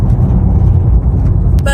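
A car driving on the road, heard from inside as a steady, loud low rumble of engine and tyre noise that continues without a break.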